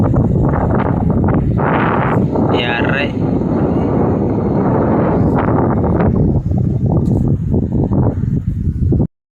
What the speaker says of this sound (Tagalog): So malakas na yung hangin at saka yung alon.